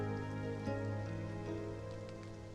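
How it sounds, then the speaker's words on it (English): Heavy rain in a video game, a dense steady patter and hiss over a low musical backdrop, even and continuous for a few seconds. "Look how heavy the rain is."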